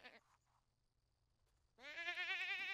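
Goat in The Sims video game letting out a loud, wavering bleat after a quiet stretch with a few faint game sounds, close and clear, no talk over it.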